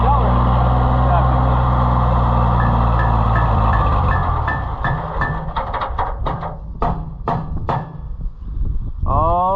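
A Woods C114 mower engine idles loudly, then its steady hum breaks into choppy, uneven bursts and clattering knocks before fading, with people talking over it.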